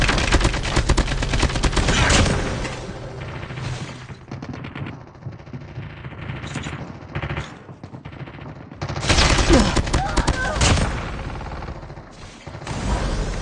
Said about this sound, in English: Engaging the enemies.